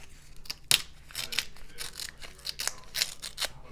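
Scrap designer series paper is torn by hand in a series of short, close, dry ripping and scratching bursts, quiet and irregular over a few seconds.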